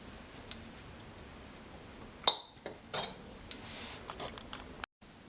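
A clean spoon clinks a few times against a pot of mater paneer, with one sharper metallic tap and several lighter ticks scattered over a quiet kitchen background.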